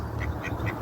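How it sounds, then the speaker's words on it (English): Ducks out walking by a river quack three times in quick succession, close and fairly quiet over a steady background rush. "So that's the ducks."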